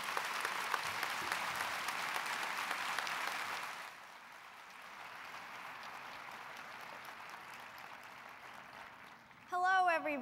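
An audience applauds steadily as a speaker is welcomed to the stage. The clapping is loud at first, then quieter and sustained, with a brief voice cutting in at the end.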